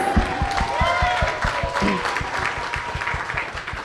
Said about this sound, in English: that first applause was a little weak